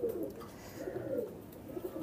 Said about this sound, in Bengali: এই দুইটা কবুতর